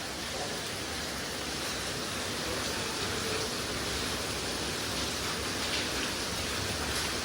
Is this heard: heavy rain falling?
yes